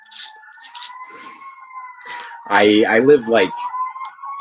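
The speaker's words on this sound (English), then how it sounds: "I hear sirens in the distance." Emergency sirens wail faintly in the distance, a steady rising-and-falling tone, while a person speaks briefly over it.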